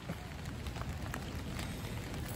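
Steady rain falls over a garden bed of cucumbers, a soft, even patter of drops on plastic and soil, close and continuous with no voices.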